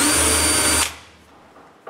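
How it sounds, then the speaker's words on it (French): A power drill bores pilot holes in wood for hinge screws on a bathroom cabinet, one loud steady whine for under a second before stopping abruptly, followed by quiet room noise and a faint brief clunk. "je perce les trous pilotes avant de visser la deuxième partie des pentures"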